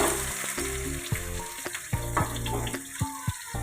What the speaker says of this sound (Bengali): এবার নুন হলুদ দিয়ে আলুগুলোকে ভেজে নিই।